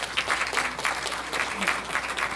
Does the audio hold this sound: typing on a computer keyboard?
no